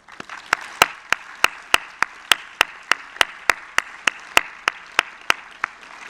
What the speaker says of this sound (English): May I invite you to please give a warm round of applause to thank them for being the true teachers of teachers.